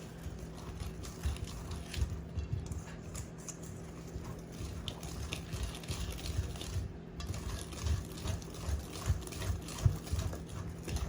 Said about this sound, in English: we're just gonna start with the whisk. Just whisk it together.